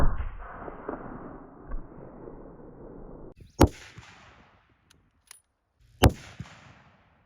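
Two loud, sharp rifle shots from a 30-06 firing Remington Core-Lokt 180 grain rounds into ballistics gel, several seconds apart, each a sudden crack with a short fading tail over faint background noise.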